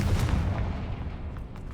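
The Confringo fire spell in the video game Hogwarts Legacy lands as a heavy, booming blast. A dense low rumble rolls on for nearly two seconds and slowly thins out.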